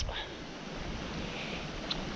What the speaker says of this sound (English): you can see how windy it is. It is affected by the wind.